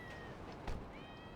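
A cat in GTA 5 gives a faint, short meow over steady background game ambience, with a brief low bump partway through.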